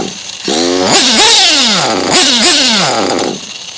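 An RB Mods modified Pico .28 moped with an Italian two-stroke motor revs hard up close, its pitch climbing and dropping in a few sharp snarling bursts before settling.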